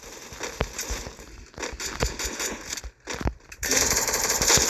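Rapid gunfire in the Free Fire battle game, bursts of sharp shots in irregular clusters with brief pauses, then a denser, louder stretch of firing at the end.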